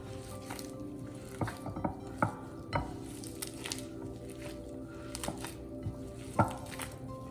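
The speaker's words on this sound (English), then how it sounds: "What we want to do is just mix these two really well together so that they're fully incorporated." Kosher salt and cream cheese being stirred together in a bowl, producing soft scraping and occasional clicks of a utensil against the side, quiet and close with no talking.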